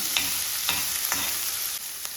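Small onions sauté in a pan under a dense, even sizzle, and a spoon stirs through them in three or four soft, regular scrapes.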